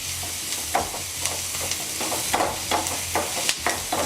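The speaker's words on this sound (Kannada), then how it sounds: "ಕಲರ್ ಬರೋ ಗಂಟ ಈರುಳ್ಳಿನ ಹುರಿತಾ ಇರಬೇಕು" Onions frying in a pan for an egg bhurji dish, a steady close sizzle with several sharp scraping stirs of a spatula at irregular moments throughout, no voices.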